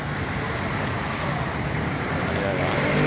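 Busy street traffic near a mall: a dense, continuous wash of passing cars, buses and trucks, fairly close, with a brief hiss like an air brake early on.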